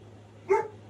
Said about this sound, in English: And there's a dog barking outside.